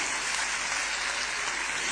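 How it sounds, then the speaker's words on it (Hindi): Steady, dense clapping from a large crowd at a public event launching a women's pilgrimage bus scheme, filling the space evenly and continuously without any voices on top. "ऊपर से तालियों की आवाज कम आ रही है,"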